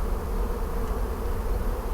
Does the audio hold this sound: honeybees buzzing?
yes